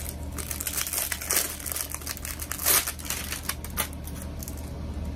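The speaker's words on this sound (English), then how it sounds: "Gotta take the plastic off and show y'all" Plastic wrapping crinkles and tears off a 3-tier candle holder, close up, in irregular crackling bursts with a couple of sharper rips and no talking.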